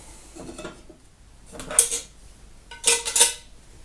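Metal camping stove pots from Jägare MT, M40 and Trangia 25 cook sets clatter and clink together in a few short, close bursts, with quiet pauses between.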